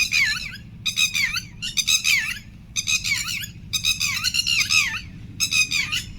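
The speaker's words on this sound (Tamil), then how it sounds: "பறவைகள் அனைத்தும் ஒன்று கூடின." Cartoon birds gather and squawk in an animated Tamil folk story about an elephant and a timber merchant, loud bursts of harsh calls repeating in quick groups over a low background hum.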